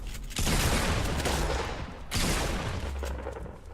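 Gunfire in the Fortnite battle royale video game: two loud, dense bursts of shots, the first lasting about a second and a half and the second slightly shorter, close and forceful, with no talking.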